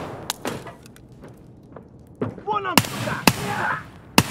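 Single-fire gunshots in the shooter game Escape from Tarkov: sharp, separate reports, a few faint ones early and then several loud, close shots spaced about half a second to a second apart, with muffled voices in between.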